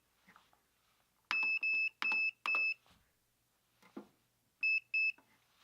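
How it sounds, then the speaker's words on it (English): Keypad gun vault emitting electronic beeps: a quick run of four sharp tones, a pause with faint handling noise, then two more beeps close and loud. "Once you have the 2 yellow beeps"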